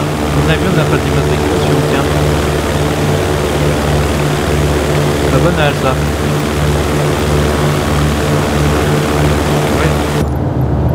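Steady propeller airplane engine drone from a light aircraft in Microsoft Flight Simulator, flying VFR between Tarbes-Laloubère and Pau, pulsing evenly and continuously throughout, with someone speaking briefly over it.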